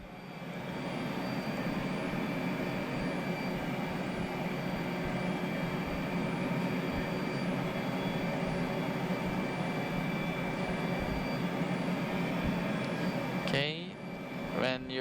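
A Boeing airliner in a flight simulator hums with a steady, even jet engine whine while taxiing, continuous and moderately loud, ending with a brief chirping sweep near the close; a person talks over it.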